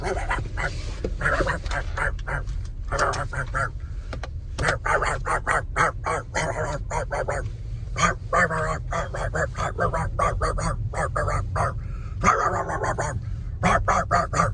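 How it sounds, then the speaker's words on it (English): A dog barks repeatedly in short bursts across the whole stretch, fairly loud and close, with no talk over it, during delivery rounds on a busy Black Friday. "Boy, that dog was barking."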